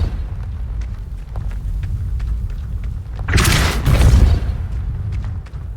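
Casting the Depulso spell in Hogwarts Legacy sets off a single heavy, whooshing blast that lasts about a second over low ambient rumble and scattered small clicks.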